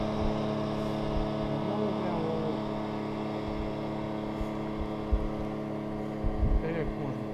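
A motorboat out on the Moksha river during a fishing trip in Ryazan Oblast gives off a steady, droning engine hum. It holds evenly throughout with faint voices in the background.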